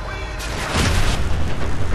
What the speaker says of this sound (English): I forgot there's a second explosion.